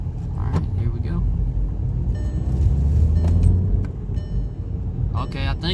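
Volkswagen Passat B7 TDI diesel engine pulling under turbo boost from inside the cabin, a low steady rumble that swells in the middle and eases off, with a voice speaking briefly over it.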